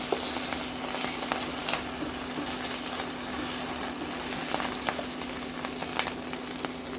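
Chicken, mushroom and broccoli fry in a pan with cheese melting on top, a steady crackling sizzle with scattered pops and faint stirring, fairly loud against a low electrical hum, with no talking.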